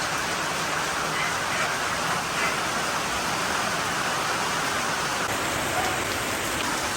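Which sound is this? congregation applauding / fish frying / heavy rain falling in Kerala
heavy rain falling in Kerala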